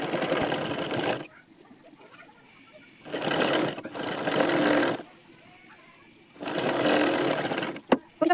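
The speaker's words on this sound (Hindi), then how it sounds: "इस पर हम सिलाई चलाएंगे" A sewing machine stitches a blouse lining in three loud close bursts of fast whirring, separated by quiet pauses with faint handling noise.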